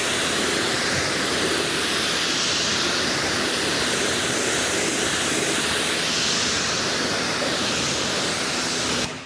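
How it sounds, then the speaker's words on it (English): Water from a hose floods and rinses soap off a ceramic-coated car panel, a loud, steady broadband rush of spray and runoff that continues without a break and with no voices. "when you see that first initial kind of flooding of the panel, we're still rinsing away some of the surfactants of the soap on there"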